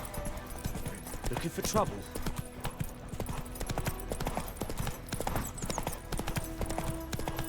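Roach the horse's hooves clip-clop in a steady walking rhythm in The Witcher 3, with occasional snorts and ambient game sounds, while voices speak over the footsteps.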